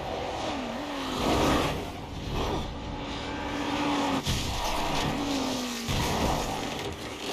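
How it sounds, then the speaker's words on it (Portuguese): A Ferrari race car on the fast section of the Nürburgring circuit, its engine droning loudly and steadily with whining tones that rise and fall across several gear changes, with no voices. "Lauda perdeu o controle de sua Ferrari. O carro saiu disparado para o lado da pista e bateu violentamente contra as barreiras"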